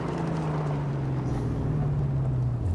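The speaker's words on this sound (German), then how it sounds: "jetzt ist das Auto auch nicht ganz so laut, das ist schon ganz in Ordnung so" A car engine droning steadily while driving in the Mad Max video game, a low constant hum with a slight pitch drop near the end and a faint windy hiss over it.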